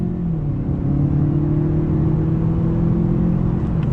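A 2021 Mazda 6 Carbon Edition's turbocharged four-cylinder engine pulls hard under throttle, a steady loud droning hum with a rising whir, heard from inside the car without talk.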